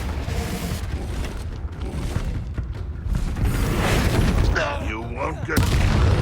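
Confringo fire spell blasts in Hogwarts Legacy: a series of booming impacts and crackling bursts under game music and battle noise, with a voice speaking over part of it.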